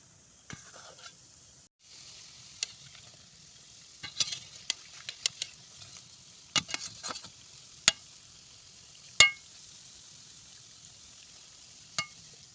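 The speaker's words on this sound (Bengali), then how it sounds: "এখন কিছুটা সময় ভাজা হবে" Palm fritters (taler bora) made with cow's milk frying in a pan: a faint, steady oil sizzle broken by scattered sharp clicks and scrapes of stirring, with no talk.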